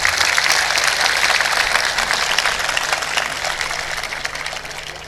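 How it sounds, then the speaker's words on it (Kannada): An audience claps in sustained applause for a brave soldier at an honouring ceremony, a dense, loud wash of hands that holds steady and slowly eases off. "ಅಂಥ ವೀರ ಯೋಧನಿಗೆ ನಮ್ಮದೊಂದು ಸಲಾಂ ನಮ್ಮದೊಂದು ಚಪ್ಪಾಳೆ"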